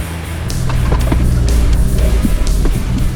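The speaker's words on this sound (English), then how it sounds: "I watched Simon go through the creek first" A Ford Ranger 4WD in a convoy drives through a creek, heard up close as a loud low engine rumble mixed with splashing, wheel knocks and thuds over rough ground, with no one talking.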